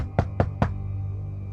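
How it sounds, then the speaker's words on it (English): Three quick knocks on a front door, evenly spaced and close, fading into a low steady background hum. "I heard someone knocking on my front door."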